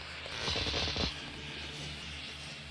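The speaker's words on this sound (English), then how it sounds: "I've caused the vacuum cleaner to be hostile to me" A hostile robot vacuum cleaner in the Deus Ex game gives a close mechanical whirring and ratcheting burst that grinds for about half a second, then settles into a softer steady hum.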